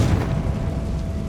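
The Confringo fire spell in Hogwarts Legacy bursts as a short, heavy explosive boom with a rumbling low end that fades quickly, loud and close with no voices.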